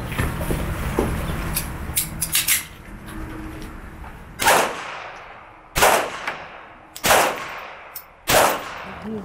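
Live military firearms fired at a shooting range competition: several loud single shots ring out a second or so apart, each with a trailing echo over steady background noise.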